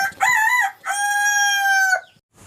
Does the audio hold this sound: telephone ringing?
no